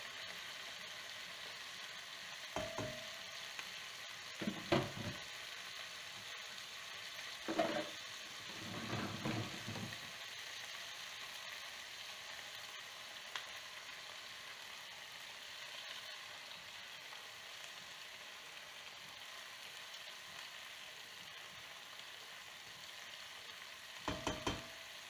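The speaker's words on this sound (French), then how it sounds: "Je fais dorer et ensuite je vais mettre mes oignons." Frying and browning in a pan before onions are added, a faint, steady background sizzle with a few brief stirring scrapes and knocks, quiet and without talking.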